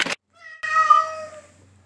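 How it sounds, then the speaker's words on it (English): A cat meows in a vet clinic: a short burst at the start, then one long, drawn-out, unhappy meow that fades slowly, close and clear with no talking. "You got two cats."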